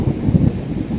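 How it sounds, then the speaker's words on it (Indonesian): Steady rain falling outdoors in the late afternoon at a fishing spot, with low rumbling that suggests thunder. Loud, continuous and close, with swelling low-end rumbles and no voices. "hujan pun mulai turun."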